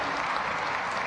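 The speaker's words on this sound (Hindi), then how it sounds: "जोरदार तालियां बजनी चाहिए।" An audience at an awards ceremony applauds an honouree, a thick, continuous roar of many hands clapping, loud and steady for the whole short stretch.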